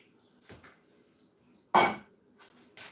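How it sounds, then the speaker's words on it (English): Bowls clatter and clink as they are shuffled about while someone hunts for a bigger mixing bowl, with a few faint knocks and then one loud close ceramic clatter. "Let me look for another bigger bowl to mix inside."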